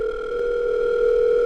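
A telephone line gives a steady, unbroken electronic tone that holds at a constant moderate level throughout.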